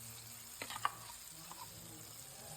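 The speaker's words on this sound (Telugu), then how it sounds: "మొత్తం మంచిగా కలుపుకొని పచ్చివాసన పోయేంత వరకు మంచిగా వేయించుకోవాలి" Ground onion and tomato paste fries in a pan for gutti vankaya curry, a soft steady sizzle with a few light scraping stirs close by, fairly quiet and with no voices.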